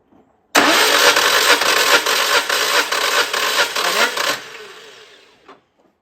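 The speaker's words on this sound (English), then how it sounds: "Go on, Jacob, spin her over, full throttle." A Citroën 2CV engine, set up for ice racing, spins over at full throttle on the starter during a compression test, a loud steady churning crank for about four seconds that then tapers away, with no speech over it.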